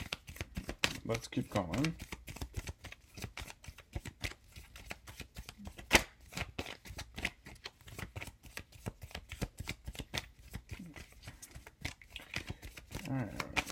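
Tarot cards are shuffled in a dense run of crisp riffling flicks and slaps that carries on throughout, with one sharper snap midway, while someone talks over the card noise.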